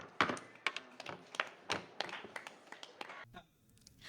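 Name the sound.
students clapping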